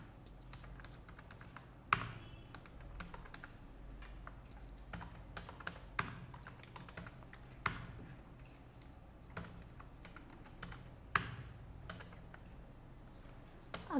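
Employee names are typed into an Excel spreadsheet on a computer keyboard: sparse, quiet keystrokes with occasional sharper clicks, heard alone in a quiet room.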